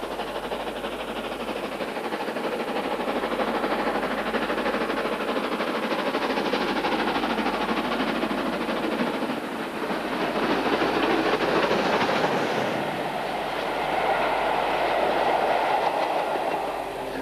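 LNER K1 steam locomotive No. 2005 departing Fort William on the West Highland line, a steady rolling train sound with rail clatter and wheel noise, loud and continuous throughout with no talk.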